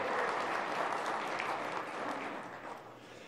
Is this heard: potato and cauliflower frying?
no